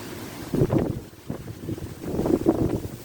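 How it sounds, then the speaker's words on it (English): Strong gusts buffet the microphone beside a fishing spot, producing low, rumbling bursts of wind noise that surge and drop in uneven waves, with no voices. "Oh, this wind is crazy."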